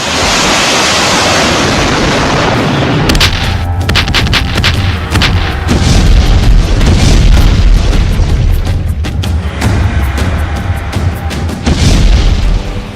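Ukrainian army rocket launchers fire toward Russian positions in wartime, a rapid series of loud booms and sharp blasts over a continuous roaring rumble with wind buffeting the microphone.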